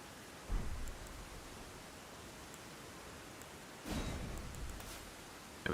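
Steady rain falls in the Elden Ring video game as a soft, even hiss, with two brief louder gusts or splashes rising over the wash, and no voices.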